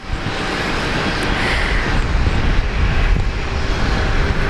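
A Fokker airliner passes at Brisbane Airport, a broad, steady jet engine roar that swells slightly mid-pass, loud and fairly close, with no talk over it.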